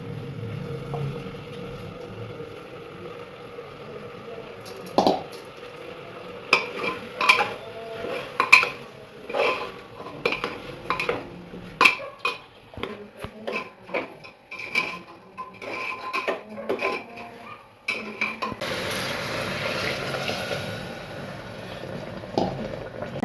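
Rice being stirred into dal khichdi in a home kitchen pot, with repeated scraping and clinking of a spoon against metal, loud and close, ending in a steady hiss.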